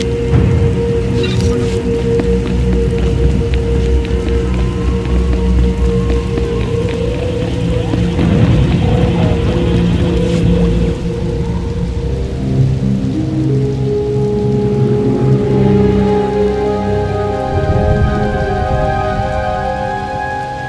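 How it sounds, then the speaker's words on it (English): Heavy rain pours steadily in Star Wars: The Old Republic, with a low rumble of thunder underneath, loud and continuous, mixed with a tonal musical backdrop. "Hard to track them through the storm. Rain's wiped out the trail."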